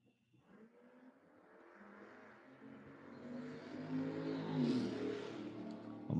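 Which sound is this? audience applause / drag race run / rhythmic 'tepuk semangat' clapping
drag race run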